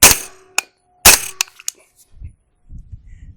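A 9mm pistol fitted with a B&T suppressor fires two sharp, close shots about half a second apart, each followed by a metallic clink of ejected brass, then faint rustling afterward.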